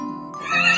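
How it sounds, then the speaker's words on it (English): A horse on a farm lets out a short, high whinny that rises and wavers in pitch, close and fairly loud, and lasts under a second. "Look at the horse."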